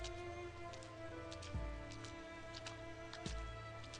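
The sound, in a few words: heavy rain falling, from the video game Arknights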